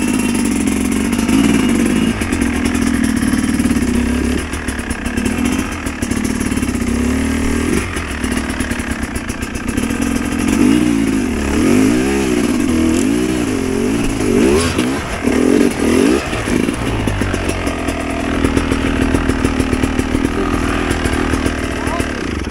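A dirt bike climbs a mountain trail, its engine droning and revving loudly throughout, rising and dipping in pitch as the throttle works, with voices talking over it at times.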